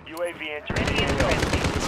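Sustained automatic AK rifle fire in Call of Duty Modern Warfare: rapid, loud, close bursts of evenly spaced shots, preceded briefly by a synthetic in-game announcer voice before the shooting begins.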